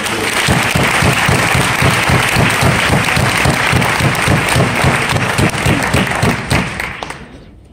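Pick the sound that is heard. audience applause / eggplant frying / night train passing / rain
audience applause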